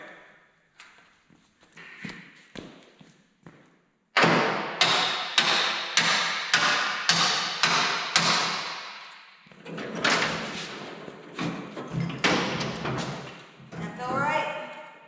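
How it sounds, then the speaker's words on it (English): Hammer blows ring out while working on a wrecker truck repair: a few scattered light taps, then a loud, regular run of about nine heavy strikes, followed by further irregular hits. "Grab a hammer."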